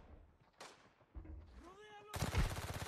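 Gunfire in the shooter game Arena Breakout, including a P90, comes in a rapid automatic burst of close shots near the end, after quieter shots and a brief voice earlier.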